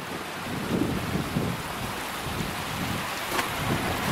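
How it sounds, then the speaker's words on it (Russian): Water babbling in a pond or stream in April after winter, a steady soft outdoor wash heard alone, with faint wind noise. "Водичка журчит."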